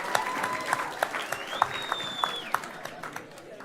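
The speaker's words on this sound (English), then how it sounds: "And a round of applause for David," At a Gong Show stand-up comedy heat, the audience claps for a comedian, with scattered close claps over a broad crowd wash and a voice talking through it.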